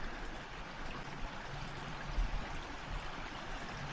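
Spring water runs out of the ground after heavy rain, a steady close trickle and stream of flowing water that holds an even level with no one speaking.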